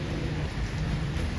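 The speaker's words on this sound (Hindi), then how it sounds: "लेकिन इतनी बारिश हो रही है" Heavy rain falling outdoors, a dense, steady hiss of drops with a low rumble underneath, continuous and fairly quiet.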